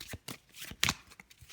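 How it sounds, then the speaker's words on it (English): A deck of cards being shuffled for a solo card game, with several quick riffling bursts in a row, close and crisp, with no talk over it. "Okay, shuffle that up a bit quickly."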